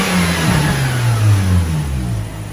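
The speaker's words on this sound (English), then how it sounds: "we'll just do a little sound check on this lovely factory intake" A Mazda RX8 rotary engine revs through its factory intake, rising and falling in a steady drone that stays loud and close for the whole stretch, with no talking over it.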